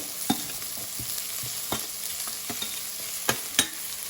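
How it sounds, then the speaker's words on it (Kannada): Beans, carrot, cauliflower and potato fry in a pan for vegetable kurma with a soft continuous sizzle, as a spoon stirs and scrapes in scattered sharp strokes. "ಒಂದೆರಡು ನಿಮಿಷ ಇದನ್ನು ಫ್ರೈ ಮಾಡಿ"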